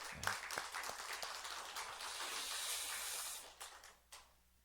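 A church congregation gives a big round of applause for its elders, deaconesses and members, dense clapping sustained for a few seconds and then tapering off into scattered claps.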